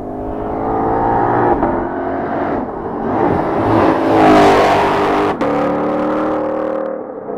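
A 2020 Ford Mustang Shelby GT500 V8 accelerating hard, a loud close engine note rising in pitch through the gears with a brief break for a shift, no talking.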